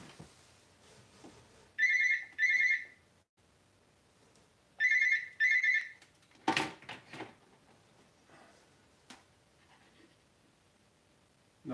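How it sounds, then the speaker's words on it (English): A WhatsApp call ringtone sounds on a phone in two short bursts of two rapid chiming trills each, fairly loud in a quiet room, followed by scattered clicks and small handling noises. "Who rings on the WhatsApp phone?"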